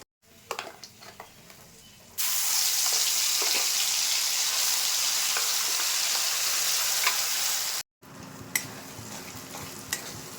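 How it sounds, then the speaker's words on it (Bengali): Whole cloves, cinnamon and cardamom hit hot oil and burst into a loud, steady sizzle that fills most of the stretch, with lighter pan clatter before it and softer frying after a brief cut. "এই তেলে আমি গোটা মশলাটা দিয়ে দিচ্ছি এখানে লবঙ্গ আছে ডালচিনি আছে আর এলাচ আছে"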